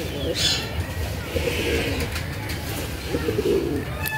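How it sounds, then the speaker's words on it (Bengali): Pigeons in a loft cooing and stirring restlessly, with low coos and bursts of wing movement running throughout over a steady background, fairly close. "পায়রা প্রচুর ছটফট করছে"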